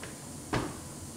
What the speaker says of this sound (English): We'll latch the back of it on the striker.